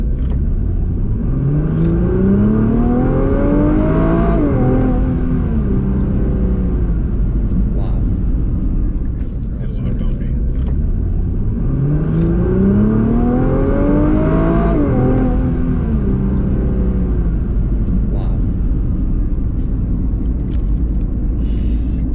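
A 2020 Nissan GT-R accelerates hard on a road, its loud engine note climbing steeply through two long surges with a gear change between them, over heavy road and wind rumble inside the car.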